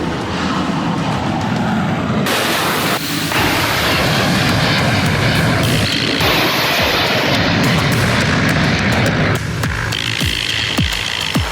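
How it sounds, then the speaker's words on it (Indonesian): Super Hornet fighter jets launching from the US aircraft carrier Abraham Lincoln, a loud continuous jet roar with broadband rumble that surges and shifts as aircraft take off, no voices. "Jet tempur Super Hornets lepas landas dari kapal induk Amerika Serikat Abraham Lincoln untuk mendukung operasi pembebasan Project Freedom"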